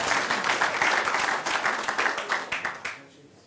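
Audience applause for Kyler Tarwater of the Heartland Event Center at an indoor football league event in Grand Island, a dense round of clapping with some voices mixed in that holds steady, then fades out near the end.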